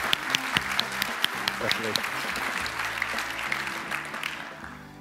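Sustained audience applause at an open source awards ceremony, many hands clapping steadily, close and loud, fading toward the end, with a brief spoken word over it.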